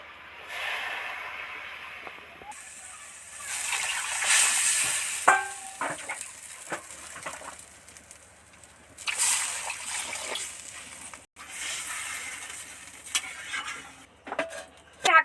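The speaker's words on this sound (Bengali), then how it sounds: "এবার জল দিয়ে দিচ্ছি" Water is poured into a pan of Bengali bata fish curry with potato and pointed gourd, giving a hissing splash and sizzle that rises and falls over several seconds, with a few clinks in between.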